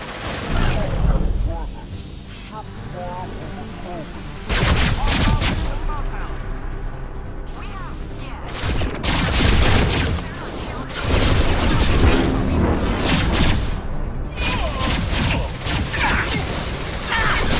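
Combat gunfire in Mass Effect 2: loud, dense bursts of shots and blasts in several clusters with brief lulls between them, and voices heard through the fighting.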